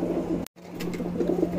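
A tumbler roller pigeon coos softly and repeatedly at close range, low throaty murmurs with a brief silent gap partway through.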